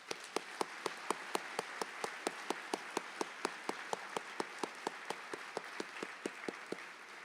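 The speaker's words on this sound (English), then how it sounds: "Let's please give them a round of applause." An audience gives Freedom Riders honorees a round of applause at an evening event, heard as a faint, even wash of clapping with a steady series of sharp individual claps standing out on a regular beat.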